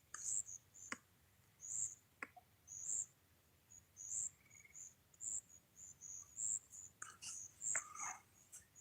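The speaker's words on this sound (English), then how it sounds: "Sitting out here, listening to the crickets and everything" Crickets chirp outdoors during a live fishing outing, high pulsing trills repeating in regular bursts at moderate distance, with occasional clicks and faint background noise.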